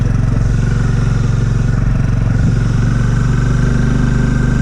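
An Aprilia RSV4 superbike launching out of 4th gear roars loud and close, a dense, unbroken engine drone with a rough, vibrating pulse throughout.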